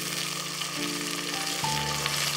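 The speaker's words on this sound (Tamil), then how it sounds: "2 நிமிஷத்துக்கு நல்லா இந்த ஆயிலே வந்து ஃப்ரை பண்ணி வச்சுக்கலாம்" Cut mushrooms fry in hot oil in a pan for a mushroom gravy, giving a steady, close sizzling hiss with faint tonal hums in the background.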